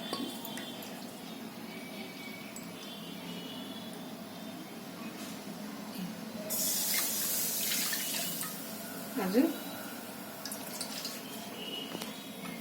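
Tap water runs into a bowl, a faint drip-like trickle at first that swells into a stronger gush midway, with light clinks of the vessel in a quiet kitchen.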